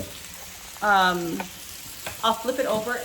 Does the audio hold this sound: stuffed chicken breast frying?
yes